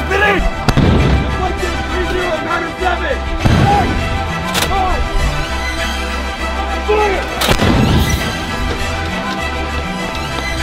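Cannons fire on an active military base, several heavy booming blasts spaced a few seconds apart, loud and echoing, with shouted voices heard between shots.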